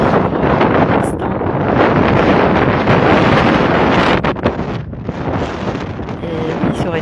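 Strong wind blows by the sea at sunrise, a loud, continuous roaring buffet against the microphone with gusts rising and falling throughout.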